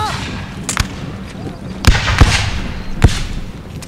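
Musket volleys from Prussian Fusiliers in the Napoleon Total War video game, heard as several sharp cracking shots spaced irregularly over a rumbling battle din.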